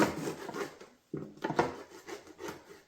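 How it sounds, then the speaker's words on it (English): A knife cuts the flap off a raw chicken wing on a board, giving short rubbing, scraping strokes close up with a brief pause between cuts. "What I like to do, I like to remove the flap on my wing."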